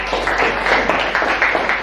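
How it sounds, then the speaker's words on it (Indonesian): Classroom audience clapping together during a teaching-practice lesson, a brief burst of rhythmic, fairly even applause with no talking over it. "Oke, tepuk tangan dulu."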